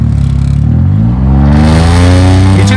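A Maruti 800 car engine with a muffler lead revs loudly and up close, its droning note climbing steadily in pitch as the throttle opens, with a faint clattery edge and no talk.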